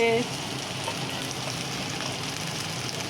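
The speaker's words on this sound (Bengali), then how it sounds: "আদা রসুন বাটা দেওয়া হচ্ছে পেঁয়াজ লাল হয়ে গেছে" Ginger-garlic paste sizzling with browned fried onions in a pan, a steady dense hiss that flares loudly at the start and then holds even throughout.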